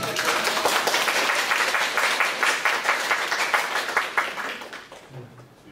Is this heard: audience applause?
yes